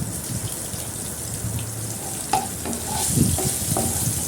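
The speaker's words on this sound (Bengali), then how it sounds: "টমেটোটাকেও আমি ভালো করে একটু ভেজে নেব" Chopped tomatoes frying with a little salt in a pan, a close steady sizzle with scraping stirs and a few louder spatula knocks near the end.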